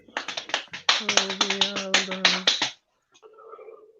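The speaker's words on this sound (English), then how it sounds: "Me slapping my legs." Hands slapping on legs during a tense live football stream, giving a fast run of sharp close slaps for about three seconds before stopping, with some voiced sound under it.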